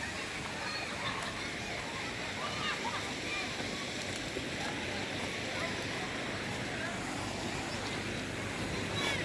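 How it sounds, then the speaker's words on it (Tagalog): River water rushing along a rural riverbank during hot weather, a continuous broadband wash of flowing current with faint splashing, steady and moderately close throughout. "Ito yung ilog guys, oh."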